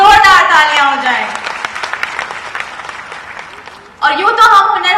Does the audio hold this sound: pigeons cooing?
no